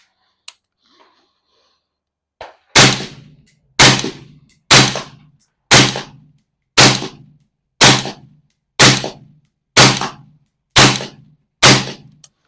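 Rifle fitted with a standard bolt carrier group fires a string of about nine sharp, loud shots, spaced roughly a second apart, each followed by a short ringing decay; a couple of faint clicks come first.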